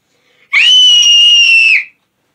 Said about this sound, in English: Loud scream.